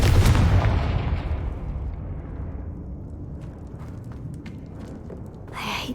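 A Confringo blasting spell from Hogwarts Legacy detonates in a loud, close burst of fiery explosion. A long rumbling roar then decays slowly beneath it, and a brief crackle follows near the end.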